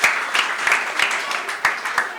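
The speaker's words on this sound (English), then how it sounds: "Let's give them a big round of applause again." An audience applauds quiz contestants at a school maths quiz, a steady, dense round of clapping that stays fairly loud throughout its short span.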